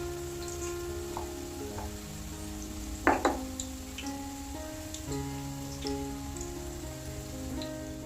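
Onion pakoda batter drops into hot oil in a pan and fries with a steady, soft crackling sizzle, with a louder splashy burst partway through as more batter goes in.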